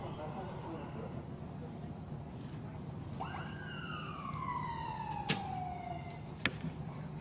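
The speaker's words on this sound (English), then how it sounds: "We heard a siren go off." A siren wails during a recurve mixed team bronze archery match in Antalya, one long falling tone with sharp knocks near the end, moderately loud over steady outdoor background noise.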